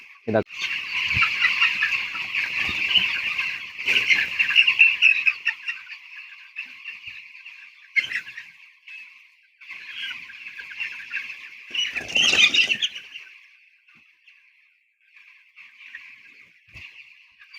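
Broiler chickens about 16 to 17 days old cluck and chirp in a dense, continuous flock chatter inside a small poultry farm shed, swelling and fading in waves with a few quieter gaps.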